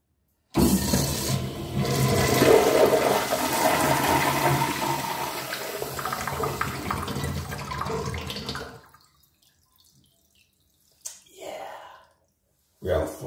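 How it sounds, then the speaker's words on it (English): Flush of a vintage early-1950s Crane Del Rio urinal in a church restroom, a loud rushing gush of water that pours steadily for several seconds and then cuts off, followed by brief quiet drips and a soft refill. "I'm quite sure it has an awesome flush."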